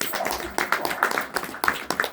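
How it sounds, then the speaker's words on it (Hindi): An audience claps at a Brahma Kumaris Mahashivratri spiritual gathering, giving a scattered burst of many hands with a few sharper individual claps standing out, moderately close and mostly alone. "बजाओ अपने लिए ताली।"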